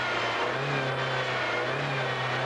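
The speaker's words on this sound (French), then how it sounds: "c'est une Mercedes classe C 180" A Mercedes C-Class C 180 engine hums and pulls steadily under acceleration, a continuous mid-pitched drone heard close and fairly loud.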